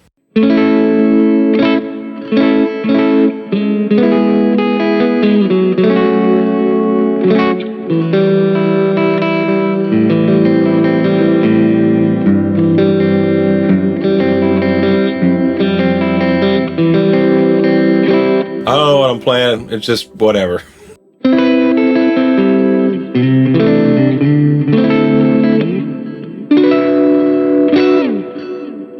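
Electric guitar, a Strat, played clean through a Line 6 POD Go modeling a Bogner Shiva amp, with a shimmering, chorus-like tone, noodling chords and melodies continuously; a voice talks briefly over the playing.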